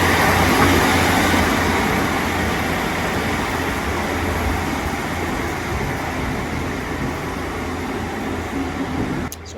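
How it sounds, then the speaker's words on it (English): A Class 150 diesel train pulls away from a station on the Swansea to Pembroke Dock line, its engine giving a steady, fairly loud rumble and drone that fades slightly as it leaves. Nobody speaks. "I'll get footage of the train pulling off, the 150 train pulling off."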